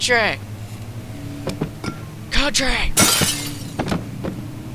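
Glass smashes in the video game Amnesia, a couple of sharp crashing bursts standing out amid game sounds and a person's voice.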